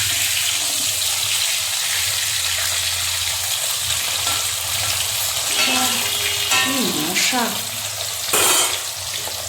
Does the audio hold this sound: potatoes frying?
yes